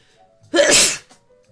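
A single loud sneeze, close and alone, a short burst with no talking around it.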